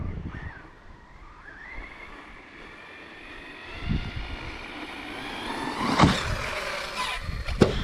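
A Team Corally Sketer RC truck on a 5S battery with a Max8 2200kv motor: a high-pitched electric motor whine rising and falling as it drives, with louder, sharper bursts as it passes close near the end.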